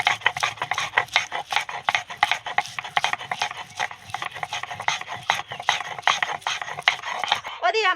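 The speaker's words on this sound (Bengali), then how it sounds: "এবার আদাটা আমি ছাড়িয়ে নেব" Fresh ginger being peeled by hand in a rustic village kitchen, giving a steady series of close, dry scraping rasps in quick irregular strokes that run unbroken from start to finish.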